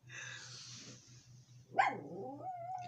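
A dog howls in a drawn-out, wavering tone, with a brief louder yelp partway through and a softer rising whine after it. No one talks over the sound.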